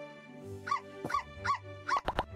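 A dog barks about four times in a steady rhythm, sounding synthetic, over a faint droning musical tone, with no talking.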